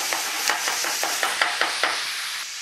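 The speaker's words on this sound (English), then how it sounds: "We're frying everything off to extract the maximum amount of flavor of every ingredient" Meat dish frying in a pan with other ingredients, a steady bright sizzle with evenly spaced clicks and scrapes of stirring, close and moderately loud, with no talking.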